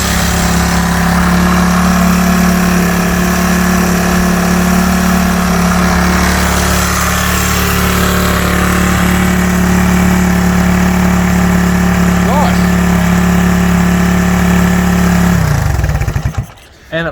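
A classic Honda motorcycle engine, a CB125 or CB360 under restoration, runs loud and steady with its throttle jammed, holding one droning pitch before it cuts out abruptly near the end.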